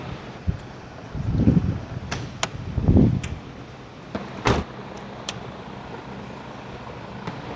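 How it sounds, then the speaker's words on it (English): The hood of a Lexus LC500 is popped open: a few sharp mechanical clicks and soft thumps, spaced apart against a quiet garage background. "we're going to go ahead and pop the hood open"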